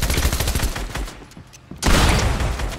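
Shotgun fire in Fortnite, heard as a rapid volley of loud, close gunshots that dips into a brief lull before another heavy burst of shots, with no talk over it.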